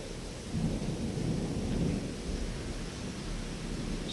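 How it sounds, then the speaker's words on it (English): A thunderstorm rolls on with a low, rumbling thunder swell near the start, over a steady hiss of rain that continues throughout. "It's not so difficult to listen to the thunder and rain,"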